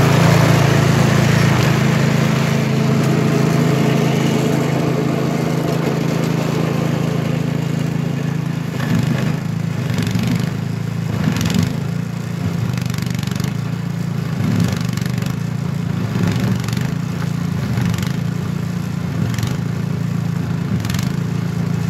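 A Poulan PR621 208cc 6hp four-cycle single-stage snowblower runs at high revs with a loud, steady engine drone, its pitch dipping as it bites into and throws snow in repeated surges.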